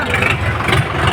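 Tractor engine running amid a roadside crowd jam, a steady low mechanical rumble with fluctuating loudness, mixed with busy background voices and outdoor commotion.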